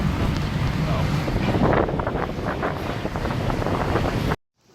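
Ocean waves wash steadily under heavy gusting wind on a coastline in Southeast Asia, a broad, loud rushing roar that holds for several seconds and then cuts off abruptly.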